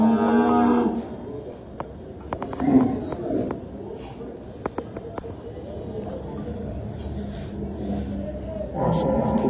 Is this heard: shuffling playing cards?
no